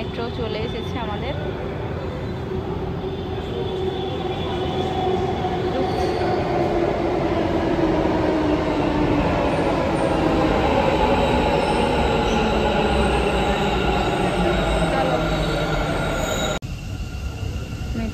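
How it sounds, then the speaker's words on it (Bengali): A metro train pulls into the platform, a loud sustained rumble with gliding wheel squeal tones that swell and slowly fall in pitch as it slows, ending abruptly. "ওই যে মেট্রো চলে এসেছে আমাদের।"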